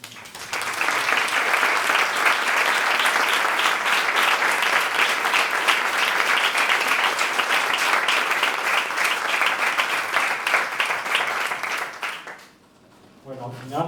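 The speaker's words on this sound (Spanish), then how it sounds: "vamos a tributarle un aplauso" Warm, sustained audience applause at a talk event, thick steady clapping lasting about twelve seconds before fading out, after which a voice begins to speak.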